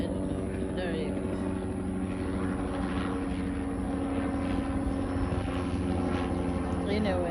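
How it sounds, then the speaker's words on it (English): Helicopter or light aircraft droning overhead outdoors near deer in the wild, a steady continuous engine and rotor hum throughout with voices talking over it. "Helicopter."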